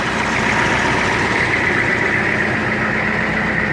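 A 1983 Ford 6.9-liter diesel engine idles steadily after a cold start, a loud, continuous low rumble with an even mechanical clatter that stays constant throughout.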